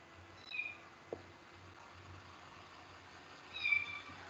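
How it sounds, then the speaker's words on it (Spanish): A newly adopted kitten meows twice indoors, each call faint and somewhat distant, separated by a few seconds of quiet room hum. "Tiene un gatito."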